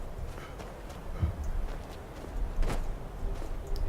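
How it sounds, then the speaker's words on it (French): Horse hooves clip-clopping in Skyrim, a faint, irregular series of soft thuds at a walking pace, quiet and close with no talk over it. "Il y a un cheval."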